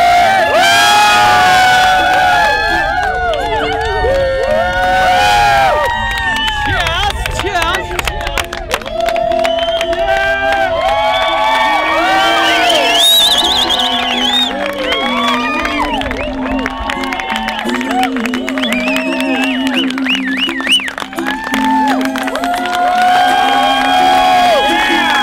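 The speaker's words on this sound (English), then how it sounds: "Give us a cheer!" Wedding guests at an outdoor ceremony cheering and whooping together, a loud sustained crowd roar with shouts and high voices throughout.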